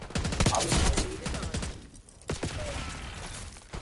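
Gunfire in the Black Ops 6 shooter: rapid bursts of automatic shots crackling in quick succession, pausing briefly before another volley, loud and near, with players talking in between.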